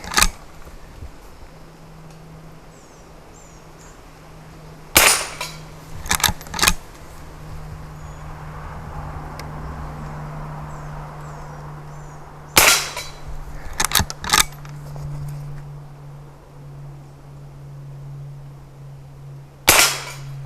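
A Henry Frontier long barrel rifle fires five shots spread out over about twenty seconds, each a sharp, distinct crack, with some faint clicks and handling noise between them over a quiet outdoor background hum.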